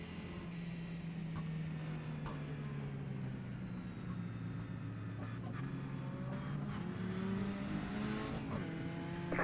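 Race car engines in iRacing at North Wilkesboro roar continuously at a moderate distance, pitches sliding up and down as cars accelerate and pass, with brief sharp transients scattered through.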